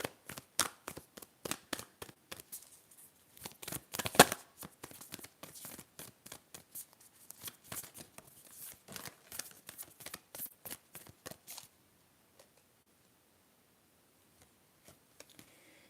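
Tarot cards being shuffled in rapid riffling bursts for several seconds, close and soft, trailing off into a few scattered taps.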